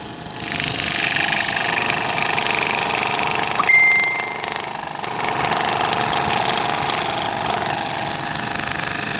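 A scroll saw cuts out a wooden piece, giving a loud, continuous buzzing motor drone with a steady rapid blade chatter throughout and a brief dip partway through.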